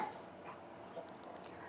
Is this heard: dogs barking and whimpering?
yes